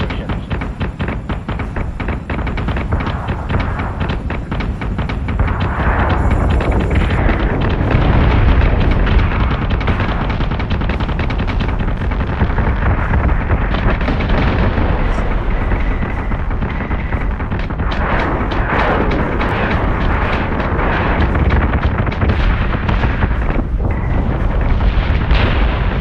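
Space battle in Battlestar Galactica Deadlock, with cannon fire and explosions rumbling continuously and loudly throughout, dense overlapping booms and bursts with no pause.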